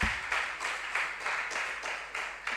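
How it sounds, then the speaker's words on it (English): Applause from an audience at a regional junior science and maths quiz in the Ashanti Region, greeting a second-year contestant: steady clapping with periodic louder swells, moderately distant in a hall, with no talking over it. "A round of applause for him"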